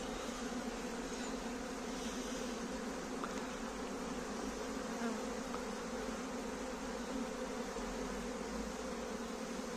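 A dense, continuous buzz of a honeybee swarm close by, steady and unbroken throughout with no voices.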